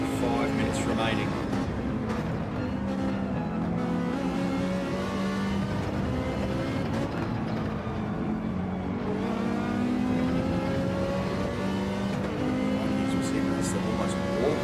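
GT3 race car engines, including a Ferrari, racing in a sim game at the Red Bull Ring, a steady droning roar with shifting revs that runs the whole time beneath a commentator's talk.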